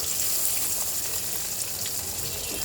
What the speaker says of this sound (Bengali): মাছটাকে ভাজার জন্য কড়াইতে আমি তেল গরম করতে বসিয়ে দিয়েছিলাম এখন আমি মাছগুলো ছেড়ে দেব